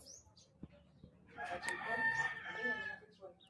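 A rooster crows once, a drawn-out rising and falling call at moderate distance, with faint background noise before it.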